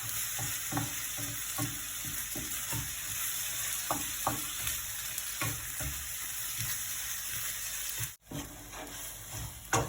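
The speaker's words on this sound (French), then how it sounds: "Voilà, on remue bien tout ça." A rice and minced meat filling for a stuffed courgette tart is stirred in a frying pan, with a steady sizzle and repeated scraping strokes of the spoon, close up and without talk.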